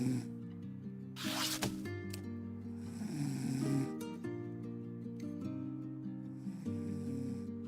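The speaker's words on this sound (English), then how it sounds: "hearing that snoring all the time is really fucking annoying" A dog snoring in the video game The Ratline, soft rhythmic wheezy snores running under steady tonal game music, fairly faint.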